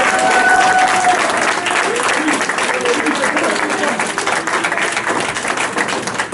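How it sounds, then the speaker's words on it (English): A room full of people applauds for Jerry at a gathering with awards, with continuous clapping of moderate loudness and some talk mixed in underneath. "Let's give Jerry a huge round of applause."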